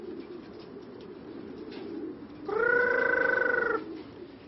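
Pigeons kept and flown by a man in Beijing, a steady soft fluttering murmur followed by a loud, close, sustained cooing call lasting about a second.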